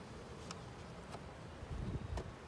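Honeybees buzzing at a hive during an oxalic acid vapor treatment for varroa mites, a steady close insect hum with a few brief sharp clicks and a slightly louder burst near the end.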